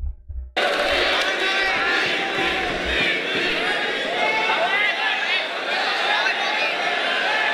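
A rap battle crowd bursts into loud shouting and cheering after a brief low rumble at the start, a dense sustained roar of many voices that holds steady to the end.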